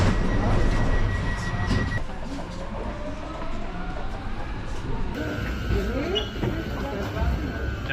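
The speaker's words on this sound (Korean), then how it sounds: "14호선인데 굉장히 생긴 지 얼마 안 된 그런 지하철이라서 굉장히 깨끗하죠." A newer, clean Paris Metro line 14 subway train with platform screen doors rumbles and whirs steadily throughout, loud and near, with rising motor tones and faint squeals as it runs.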